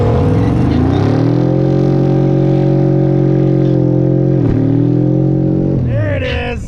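Loud sustained engine roar of a car doing a burnout, revs held steady at high pitch for several seconds before rising and trailing off near the end.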